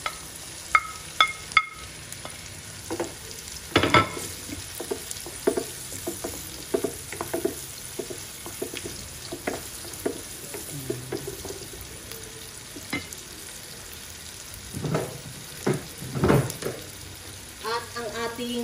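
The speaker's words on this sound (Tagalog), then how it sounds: "magigisa na tayo ngayon. Lagyan natin yung hotdog." Hotdog sautéing in a pan for spaghetti, a steady soft sizzle with intermittent spatula scrapes and clinks close by.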